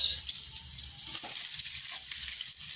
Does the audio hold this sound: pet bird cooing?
no